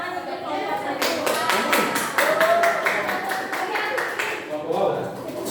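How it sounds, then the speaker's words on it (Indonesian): Students in a high school classroom clapping for a group, a run of sharp, distinct handclaps in quick rhythm, with light voices around them. "Boleh berikan tepuk tangan untuk kelompok satu"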